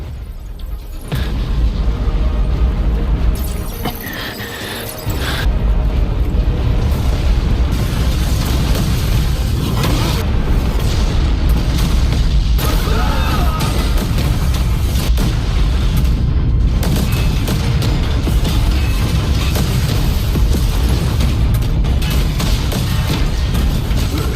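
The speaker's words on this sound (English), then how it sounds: "causing several battalion-sized fleets to explode" Spaceship fleets blow apart in an animated sci-fi battle from Swallowed Star, a loud, dense, continuous roar of booming blasts with a brief dip before it surges again.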